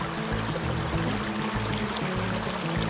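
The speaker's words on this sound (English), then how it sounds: "Beautiful, beautiful creek" A creek beside a campsite flows in a steady, close rush of water with a continuous babbling wash and a low rumbling undertone, and no voices.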